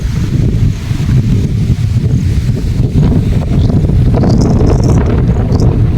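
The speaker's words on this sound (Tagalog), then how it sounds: "Sarap ng hangin." Strong wind roars and buffets the microphone in loud, constant gusts, with faint rustling underneath and no talking.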